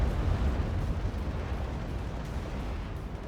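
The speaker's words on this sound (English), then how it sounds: "Is that long range artillery over here?" Long-range ATACMS artillery fire in the strategy game Act of Aggression, heard as a dense, continuous low rumble of distant booms that rolls on without a break at a moderate level.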